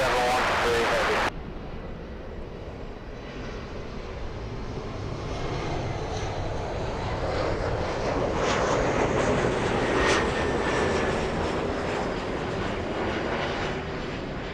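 A Delta heavy airliner lands on runway 24 right at LAX, a broad, steady roar of engines and rushing air that swells gradually and stays loud throughout, heard from a distance after a brief radio burst at the start.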